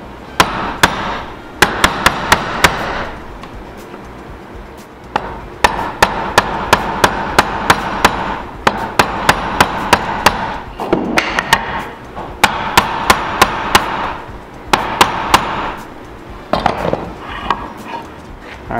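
A chisel is tapped along a marking line while hand-cutting dovetails for a built-in bench seat: sharp, close wooden taps come in quick bursts of several strikes, separated by short pauses.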